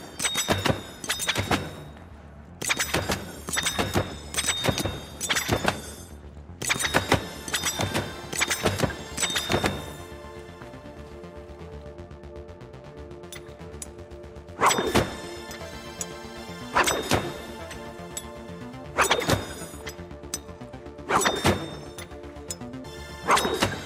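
Throwing knives from the video game The Finals, thrown in pairs and striking: repeated sharp thunking impacts in quick clusters, loud and close, with a pause mid-way before more bursts.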